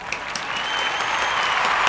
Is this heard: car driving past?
no